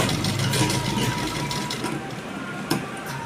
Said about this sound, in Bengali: তাহলে এইভাবে পুরো সেলাইটা করে নেব